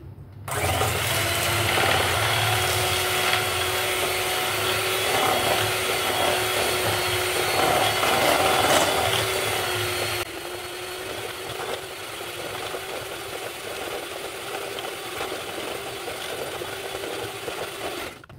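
An electric beater on its first speed whips eggs and sugar for a ragi millet brownie batter, a steady, close motor whine that runs continuously and softens to a lower level partway through.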